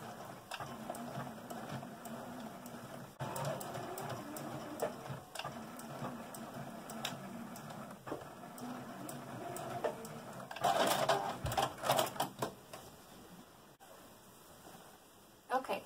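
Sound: sewing machine stitching a drawstring bag casing

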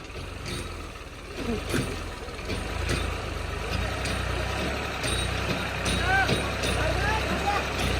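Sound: truck reversing

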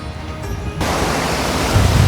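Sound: sea waves crashing on the beach, Bay of Bengal

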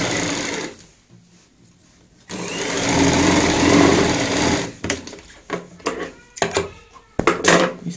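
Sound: sewing machine stitching a bucket stool cushion

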